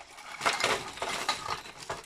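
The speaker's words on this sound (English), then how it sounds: "pop the biscuits in a plastic bag" Biscuits for a lemon cheesecake base tumble into a plastic bag, giving a few close, hard rattling clinks and crinkles in quick uneven bursts.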